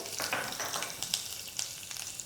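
Mustard seeds, cumin, asafoetida, curry leaves and dried red chillies sizzle and crackle in hot oil for a Maharashtrian potato curry tempering, a steady close frying hiss with sharp pops scattered throughout, no voices.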